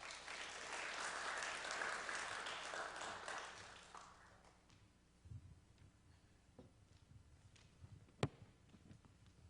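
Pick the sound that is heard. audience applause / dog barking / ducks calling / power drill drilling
audience applause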